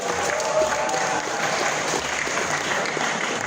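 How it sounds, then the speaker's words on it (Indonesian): Students at a campus visit clap together in a dense, sustained round of applause that stays fairly loud and even from start to finish, with faint voices mixed in. "Tepuk tangan dulu, bro."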